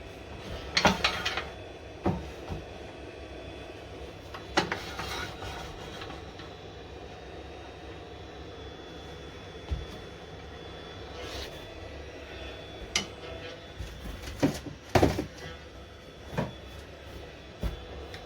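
Wood lathe turning an oak platter at about 800 RPM, a steady low drone with intermittent scraping cuts and knocks from the tool, close and moderately quiet.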